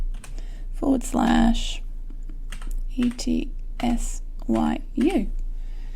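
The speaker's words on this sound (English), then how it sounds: "let me just type this link in" A computer keyboard clatters in quick bursts of keystrokes while a link is typed, sitting close behind a microphone, with a person talking over much of the typing.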